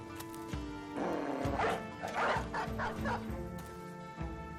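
Several dogs bark and yip in quick overlapping bursts in the video game Battle Brothers, fairly close, with whimpers mixed in over a game background.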